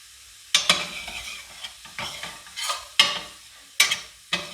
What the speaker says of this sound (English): Okay, starting to sizzle.